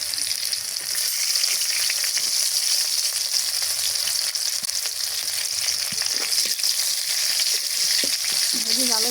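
Garlic and onion sizzle hard in hot oil with dried chillies in a pan for khichuri, a dense, loud, continuous frying hiss with occasional stirring scrapes.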